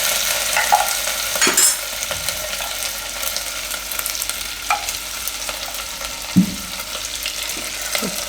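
Mustard seeds, cumin, asafoetida, turmeric, chilies and ginger fry in hot oil for a dal palak sambar, giving a steady, close sizzle with a few sharp spits and stirring clatters.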